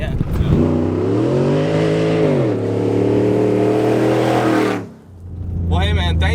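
A modified 6.2L Ford Raptor pickup engine revs hard and holds a steady roar for several seconds, dips briefly, then revs up again with a throaty rumble.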